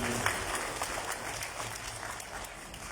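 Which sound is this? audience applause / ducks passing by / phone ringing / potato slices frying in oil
audience applause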